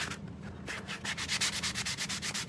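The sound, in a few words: sanding block sanding painted wood edges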